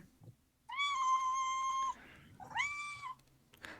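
A cat meows twice during a tabletop Alien RPG session, the first call long and steady, the second shorter with a rising start, both clear and fairly close against a quiet background.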